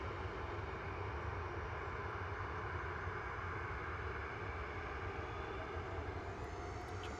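A Turkish Airlines airliner approaching Manchester Airport gives a steady, broad jet roar that stays constant and fairly distant throughout, with no talk.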